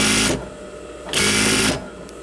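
A Juki DDL-555 industrial sewing machine runs in two steady whirring bursts of stitching, close and loud, separated by a short pause with a low motor hum.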